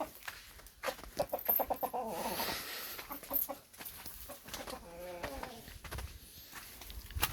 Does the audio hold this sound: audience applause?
no